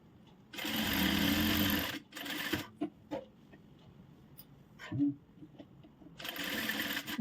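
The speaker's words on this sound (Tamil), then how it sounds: "இப்போ நம்ம சுற்றி தையல் போட்டுக்கலாம்." A sewing machine stitching around a blouse piece in fast bursts: a long whirring run, a shorter one, scattered clicks and pauses, then another sustained run, close and clear with no talk.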